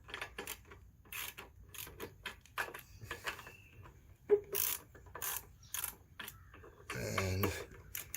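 A Harbor Freight ratchet wrench snugs bolts on a lawn mower carburetor, giving rapid bursts of close, dry clicking that stop and start, with a few metallic knocks and a louder grinding rattle near the end.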